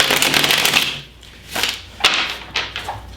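A deck of tarot cards riffled and shuffled in quick bursts, crisp papery flutters separated by short pauses, close up with no talking.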